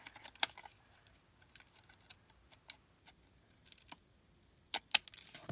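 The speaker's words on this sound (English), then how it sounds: "we're going to go ahead and cut this down with our" Scissors cutting paper for a notebook craft, heard as sparse, faint, sharp snips and clicks at irregular intervals, with a louder cluster near the end.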